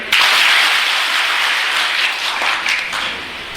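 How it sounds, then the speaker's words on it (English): An audience in a personality development session in Hyderabad claps together on cue, a loud, dense burst of applause that starts abruptly and holds steady before easing slightly toward the end. "When I lift my hand, clap."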